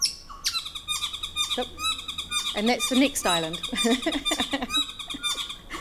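Chattery, rapid song of a Motahora Island bird dialect with squeaky, repeated high notes, heard while a person talks over much of it.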